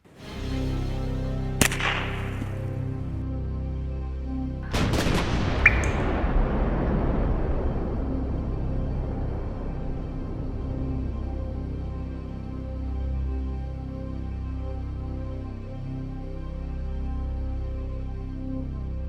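Gunshots ring out at a small soda can downrange, fired with CCI standard velocity ammunition: a sharp crack, then a louder second report several seconds later that rolls off into a long fading echo over a quiet background.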